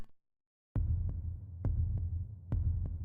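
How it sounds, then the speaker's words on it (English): Low throbbing hum swells out of silence and grows steadily louder, pulsing in slow heavy beats like a deep heartbeat, sustained and ominous with no voices. "A low hum growing steadily louder."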